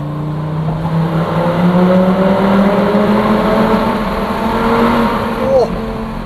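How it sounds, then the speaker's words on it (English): A Lamborghini Gallardo supercar accelerates through an underpass in Dubai, its engine note climbing steadily and loud from inside the car. "So a little underpass, show you what it can do."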